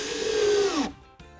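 A power drill drives a screw into the wooden back piece of a DIY wine rack, a steady whine sliding down in pitch as the screw seats, then a brief second burst after a short gap.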